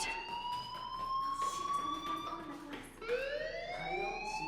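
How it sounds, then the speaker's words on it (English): A school fire alarm in the Life is Strange video game sounds as a loud electronic wail with tones that slide up and down in repeated sweeps and pause briefly midway. "Hey, do you hear that fire alarm?"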